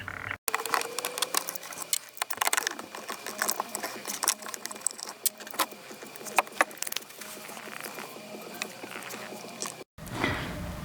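Rapid ratcheting clicks and gear whirring from a tool undoing Torx screws on the fog light of an Audi A4 B8, close and busy, briefly cutting out near the start and end.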